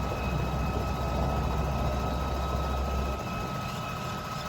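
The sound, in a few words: tractor engine running while driving in field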